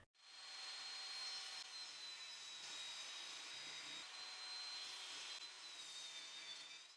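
A power saw cuts steadily through a wooden workpiece 20 millimetres thick, making a continuous loud, even whine that runs for several seconds from close by with a slight rise and dip in pitch.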